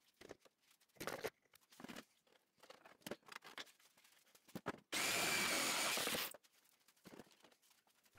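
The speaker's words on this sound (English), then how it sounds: "I pre-drilled holes in the arms and drilled them into the 2x4s inside the coffin." Power drill driving screws through pre-drilled arm pieces into pallet-wood 2x4s inside a Halloween coffin, one loud sustained burst of about a second and a half amid quieter handling knocks and taps.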